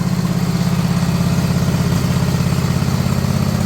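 A small engine on a zero turn mower, fitted with a swapped-in engine, a worn-out exhaust and a poorly running carburetor, idles with a close, steady, rapid low-pitched chugging pulse.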